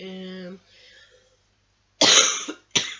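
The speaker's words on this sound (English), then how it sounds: "I've got a bad cold and cough, so sorry I'm coughing." A voice trails off, then two loud, harsh coughs from a person with a bad cold burst out close by, the first longer and the second short.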